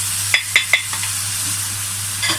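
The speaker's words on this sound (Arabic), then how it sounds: "وهقلبهم كده تقلبتين، تشويحة بسيطة كده للبصلة" Onion and a piece of fat sauté in a pan for a meat roqaq dish, with a steady hiss of frying and three quick scraping stirs near the start, then another stir at the end.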